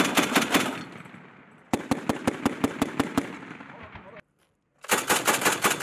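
USMC Mark 19 40mm automatic grenade launcher firing outdoors in bursts of sharp, rhythmic reports, a long burst, then a quieter stretch, a spaced string of loud shots, a brief silence and a final dense burst.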